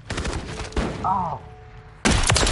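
Call of Duty gunfire, with loud sharp bursts of shots at the start, a short gap with a rising whine, then a final heavy blast at the end.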